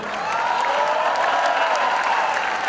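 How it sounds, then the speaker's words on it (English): An audience applauds a team at a ceremony, a dense, steady round of clapping that holds loud and even throughout, with faint cheering mixed in. "a huge round of applause for our team sir"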